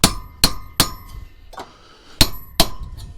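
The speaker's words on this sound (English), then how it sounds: "taps with the chisel" Hammer tapping a chisel to free copper from e-waste, giving six sharp metallic strikes in uneven rhythm, close and loud with brief ringing decay.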